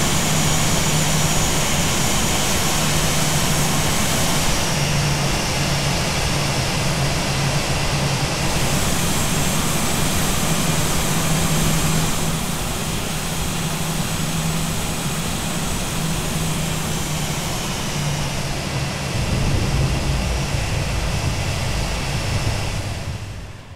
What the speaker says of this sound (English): the Aer Lingus Airbus 321-200 landing at Dublin